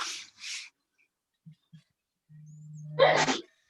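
A single loud sneeze near the end, preceded by a couple of short breathy sounds and faint clicks in an otherwise quiet room.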